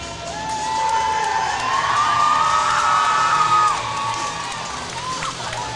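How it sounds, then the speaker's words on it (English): Crowd cheering in an ice hockey arena at a Mayo versus Owatonna high school game, a loud sustained roar with shouts and whoops that swells, then eases off toward the end. "Good crowd on hand. Yeah, we're nice and loud and excited."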